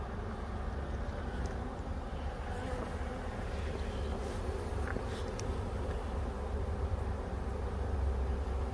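A honeybee swarm gathers around a mailbox, a steady dense buzz of many insects filling the air at moderate distance, continuous throughout with faint passing wingbeats standing out now and then.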